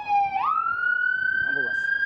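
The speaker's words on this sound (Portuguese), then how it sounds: "Lá vem a ambulância." Ambulance siren on a US street, a loud steady wail rising in pitch and holding high tones while a voice talks briefly underneath.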